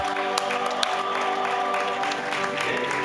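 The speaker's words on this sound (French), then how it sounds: "on peut l'applaudir" An audience applauds at the opening address of a conference, dense steady clapping throughout with a few sharp individual claps standing out.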